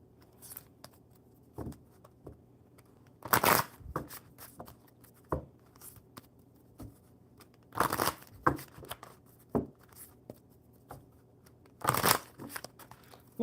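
A deck of playing cards being shuffled at a table, several short crisp riffling bursts spaced a few seconds apart, close and fairly quiet, with light handling noises in between.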